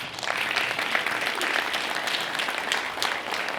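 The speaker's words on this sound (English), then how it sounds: "So can we clap it up for that, please?" Audience applause at a community business mixer: a dense, even patter of many hands clapping, fairly close and steady from start to finish with no voices standing out.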